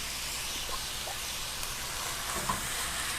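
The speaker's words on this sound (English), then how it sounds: "Get that sauteed." Beef sautéing over high heat for breakfast burritos, a steady broadband sizzle with occasional stirring scrapes and pops, close and continuous with no voices.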